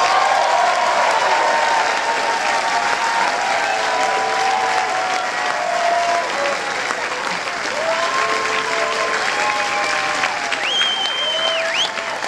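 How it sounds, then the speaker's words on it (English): A concert audience applauds a musician's touring crew, loud sustained clapping and crowd noise filling the hall for over twelve seconds, with faint cheers and whistles rising near the end. "so you can finally give them a round of applause"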